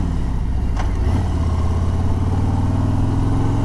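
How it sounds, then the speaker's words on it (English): A motorcycle brakes hard and downshifts, its engine loud and close with a steady throbbing note that drops in pitch as it slows, over constant wind noise. "so I'm going to brake hard,"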